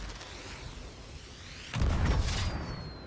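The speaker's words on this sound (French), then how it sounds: "ça c'est encore un boulet de canon" A sudden deep boom bursts in after a stretch of quieter rumble, followed by crackling debris and a thin whistling tone, like a cannon blast in a game.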